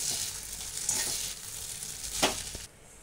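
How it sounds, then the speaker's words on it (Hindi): Poha being stirred and mixed in a hot pan, a continuous hissing sizzle with a few soft scraping strokes, close and moderately quiet, cutting off near the end. "पोहे डालकर अच्छे तरह से मिक्स कर लेना है"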